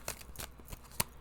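Tarot cards riffled and handled in a quiet room, a few soft papery shuffles followed by one sharper snap as a card is pulled, brief and close.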